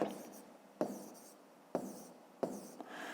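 Numbers are written by hand with a pen on paper in a maths exercise: a few quiet, scratchy strokes come in short bursts separated by brief pauses, heard close up.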